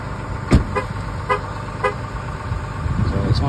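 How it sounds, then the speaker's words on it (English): A 2022 Ram 3500 pickup truck horn toots several short times, spaced apart, as it locks, over steady outdoor background noise. "So it's honking at me because I have the keys."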